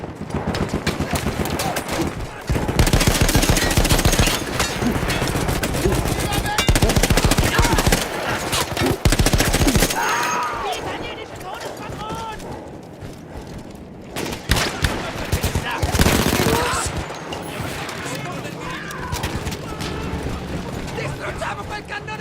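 Mounted gun firing in Battlefield 1, a World War I shooter, with dense automatic bursts and loud sustained fire over battle noise, then a quieter stretch before more shots burst in near the end.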